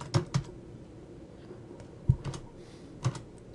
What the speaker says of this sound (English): I'll type in approvals.